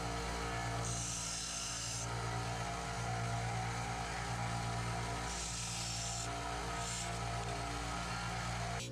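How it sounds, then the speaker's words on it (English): Belt sander rough-shaping the metal end of a clevis fork end, a continuous motor hum with grinding and rasping bursts as the workpiece presses against the belt, no talking. "I started this process on the belt sander to get a rough shape"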